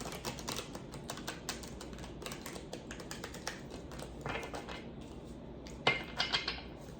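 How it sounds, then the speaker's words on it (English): Tarot cards are pulled and shuffled from a deck, giving soft, rapid papery taps and flicks with a few sharper snaps near the end, close and quiet, with no talking. "I'm gonna pull cards between the twins today."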